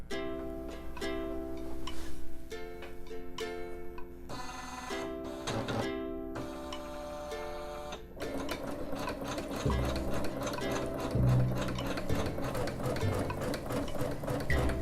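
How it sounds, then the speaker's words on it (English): A Husqvarna embroidery machine, run from the foot pedal, sews a basting square, giving a close, continuous mechanical whir with rhythmic ticking stitches and shifting speeds throughout, with no talk. "I'm going to lower the presser foot and then use the foot pedal and sew my basting square"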